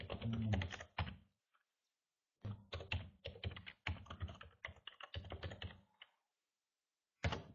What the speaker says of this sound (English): Unfortunately, it's on my other computer, so I'll have to type it in there.